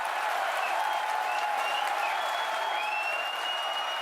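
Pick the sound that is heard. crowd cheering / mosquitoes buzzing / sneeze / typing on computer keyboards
crowd cheering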